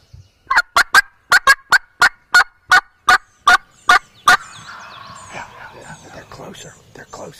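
A series of about a dozen evenly spaced, sharp turkey-like calls during a Deep South hunt, loud and close, followed by softer rustling and faint distant bird sounds.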